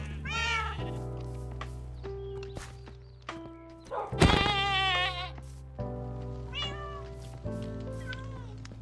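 Goats bleating in Minecraft, several wavering nasal cries close by, one loud strained call in the middle, over a steady game background.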